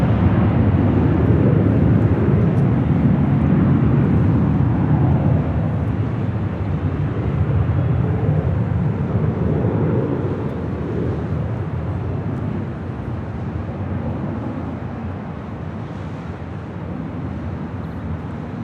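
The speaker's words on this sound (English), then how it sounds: "This is Delta Airlines Flight 802 departing to Detroit on an A321." A Delta Airlines A321 jet departs Los Angeles International Airport for Detroit, a loud, broad engine roar that holds strong and then gradually recedes into the distance, no talk over it.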